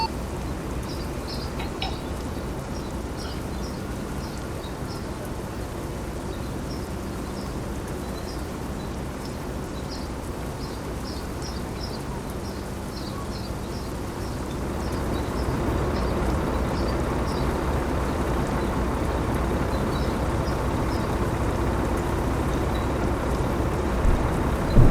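Steady rain during night driving in the American Truck Simulator game, a continuous hiss with a low engine-like rumble that grows slightly louder partway through, with faint intermittent ticking above it.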